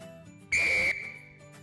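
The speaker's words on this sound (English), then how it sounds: "Penalty, straight arm at 45 degrees to the body, whistle loud and moderate length." A rugby referee blows a loud penalty whistle, one shrill blast of moderate length, close and clear, with a quieter room behind.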